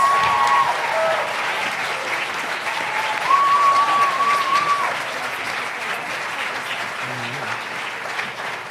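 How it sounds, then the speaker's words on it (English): Audience applause at a 2017 Albuquerque mayoral candidate forum, steady clapping from the crowd for the candidates that holds for several seconds at fairly even loudness, with a faint voice and a brief tone in the background. "can we get a round of applause for all our candidates"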